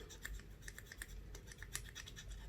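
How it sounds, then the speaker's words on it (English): A fiberglass pencil scrubs the gunked-up axles of an old Hornby R758 Class 35 diesel model train in quick, faint, close scratchy strokes with an irregular rhythm, with no talking. "going over with the fiberglass pencil just to clean them"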